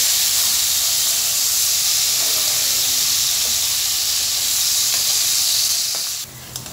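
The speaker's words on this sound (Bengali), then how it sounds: "আলুগুলোকে আমি মিডিয়াম আঁচে ভেজে নেব" Potatoes frying in oil over medium heat for a fish and cauliflower curry, a steady close hiss and sizzle throughout that drops off slightly near the end.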